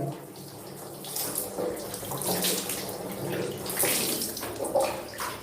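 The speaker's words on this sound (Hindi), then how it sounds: "अब 3 बार सर से पानी बहाना है।" Water poured over the head during a ritual Islamic bath (ghusl), splashing and running in uneven pours close by, with no talk.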